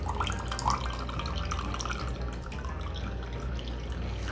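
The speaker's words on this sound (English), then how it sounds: "we're just gonna keep twisting to get out some more of that whey" Whey drips and trickles steadily from cheese being twisted in a cloth, a faint, continuous patter of small drops heard close up with no one speaking.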